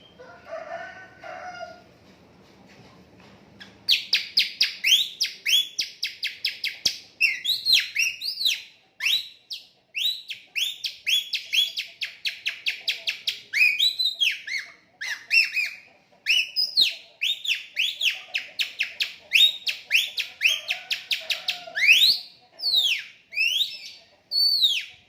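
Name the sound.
magpie-robin birdsong imitated by sucking a used plastic bag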